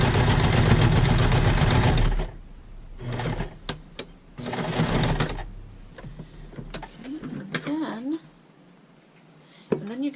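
A sewing machine stitches a Christmas tote bag in a loud steady run, then stops and gives a few short bursts as it backs up, with a voice talking between bursts.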